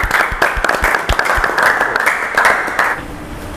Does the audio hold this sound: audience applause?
yes